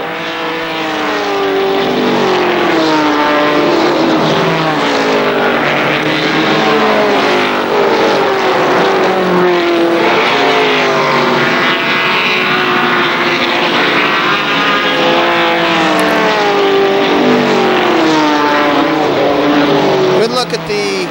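ARCA stock cars race around KilKare Speedway, engines roaring loud and continuous with pitch sweeping up and down as cars pass, while a commentator talks over the noise throughout.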